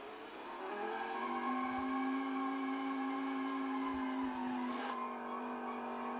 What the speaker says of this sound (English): And immediately you can tell it has a much more powerful engine in it.